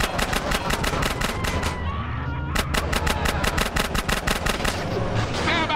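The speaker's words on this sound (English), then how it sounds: "Now come on, Smoke. Shoot" Rapid bursts of gunfire in the GTA San Andreas drive-thru mission crack in fast repeated volleys, pausing briefly before resuming in a steady rattling stream over engine rumble.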